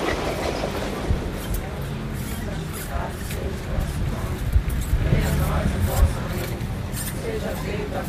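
A direct train to Central do Brasil at Realengo station rumbles and clatters on the rails, with intermittent wheel clicks, while a voice speaks over the noise.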